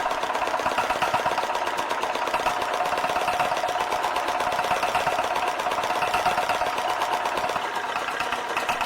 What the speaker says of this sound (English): this single-cylinder, horizontal 4-stroke diesel has a displacement of 556 cc and produces around 6 horsepower